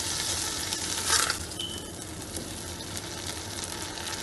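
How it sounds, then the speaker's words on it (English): Cabbage jollof rice fries in a pot with a soft, steady sizzle, a brief scraping stir near the middle and a faint high ping, otherwise quiet and even. "Fry it properly so that all those tangy tastes"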